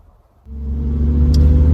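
A car engine cranks and catches after a short quiet pause, then settles into a steady, loud, close idle rumble that swells slightly as it warms up.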